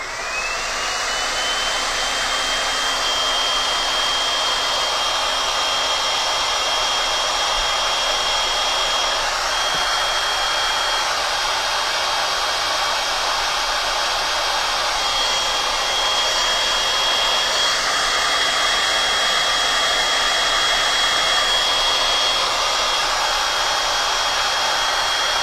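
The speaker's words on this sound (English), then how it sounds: "Heat gun procured. Let's give this a little blast before we start to do some shading." Heat gun blowing hot air over a freshly painted pumpkin porch leaner, a loud continuous rushing roar with a steady high whine, unbroken for the whole stretch at close range.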